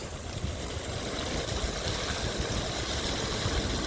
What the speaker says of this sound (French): Là, il y a la cascade. La cascade de la Défense.